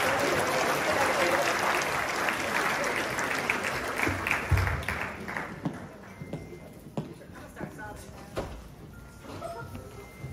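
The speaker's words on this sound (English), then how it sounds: "Please give a round of applause for them." Guests at a JROTC military ball burst into applause for a state championship Raider team, the clapping loud at first and then fading out over several seconds into scattered claps and quiet room noise.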